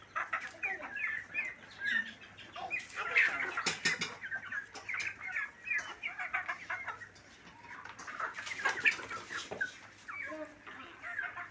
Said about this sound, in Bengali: মুরগি খাবার খাওয়াও